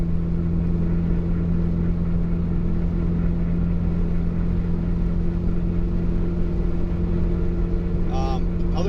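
A 2008 turbocharged Honda Civic Si being driven, with a loud, steady engine and road drone that holds evenly throughout, heard from inside the car.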